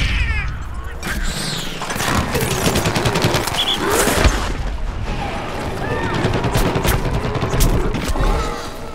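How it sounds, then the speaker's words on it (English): Dense, continuous gunfire from a Plants vs. Zombies: Garden Warfare battle, rapid shots and bursts layered with chaotic game noise, loud and close throughout with no clear talk. "What am I doing shooting things over there?"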